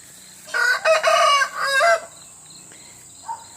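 A rooster crows loudly and close, one long drawn-out call, followed by quieter scattered chicken clucks in the background.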